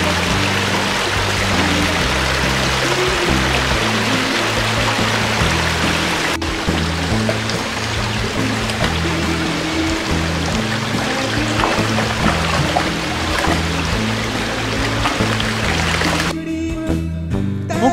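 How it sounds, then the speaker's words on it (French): A small stream flows beneath a little footbridge on a village walking path, a steady close rushing and burbling of water throughout, ending with a brief rustle near the end. "On traverse un ruisseau sur un joli petit pont."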